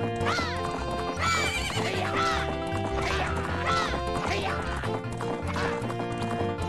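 Horses gallop and neigh during a horse race in The Legend of Zelda: Majora's Mask, a video game. Repeated whinnies rise over a steady, busy bed of hoofbeats and game sounds.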